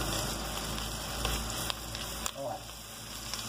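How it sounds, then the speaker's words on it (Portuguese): Garlic frying in a pan while making a caldinho soup, a steady soft sizzle under background hum, with brief clinks and a voice talking faintly over it. "Vamos deixar fritar o alho um pouquinho."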